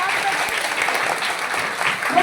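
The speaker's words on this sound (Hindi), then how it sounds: "सब भक्तों एक बार अपने अपने लिए ताली बजा दो सब लोग" Devotees at a Shiv Mahapuran religious gathering clap together, a dense, sustained round of applause from a large group filling the hall, with faint voices mixed in.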